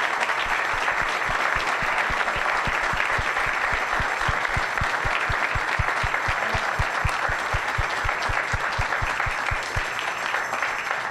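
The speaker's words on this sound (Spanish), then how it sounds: "Give him a clap offering." Sustained congregation applause at a Friday youth church service, a dense steady wash of many hands clapping with a rhythmic beat running through it, loud and unbroken for the whole stretch.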